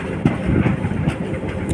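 A Konkan Railway train runs on the tracks between Ratnagiri and Panvel, giving a steady close rumble with rhythmic clickety-clack wheel beats and no talk.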